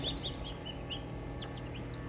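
Free-range village hen clucking among newly hatched chicks, with soft repeated clucks and high thin peeps from the chicks scattered throughout, close and steady over a low background.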